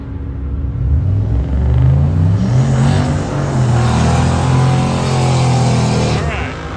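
A drag racing car at Hot Rod Drag Week launches with a loud, deep engine rumble that builds steadily as it accelerates away, while a commentator talks over it.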